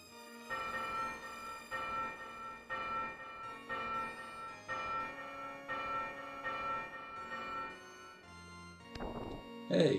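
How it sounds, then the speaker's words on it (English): A bell tolls repeatedly in the video game Demon's Crest, in Phalanx's Palace, with about eight evenly spaced ringing strikes that sustain and overlap, followed by a brief rising game sound effect at the end. "There's a bell over here."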